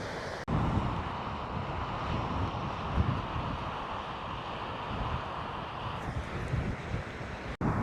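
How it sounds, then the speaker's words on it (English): Strong wind buffeting the microphone at a Lake District wild camp, a steady loud broadband roar with gusty surges throughout, no talking. "if it weren't so windy"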